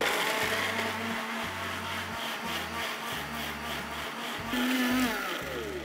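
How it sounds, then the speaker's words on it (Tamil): A kitchen mixer grinding fried onion into a fine paste, the motor whirring in loud bursts that start and stop several times, with a steady rattling, humming drone from the jar. "அது ரெண்டுத்தையும் சேர்த்து ஒரு மிக்சி ஜாரில் போட்டு இதையும் ஒரு ஃபைன் பேஸ்ட்டாக அரைக்க போகிறோம்"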